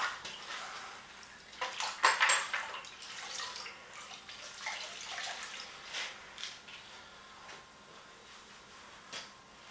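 Rag with cold saw shavings rinsed in a container of water, soft sloshing, splashing and dripping in irregular bursts, fairly close and quiet, with no talking.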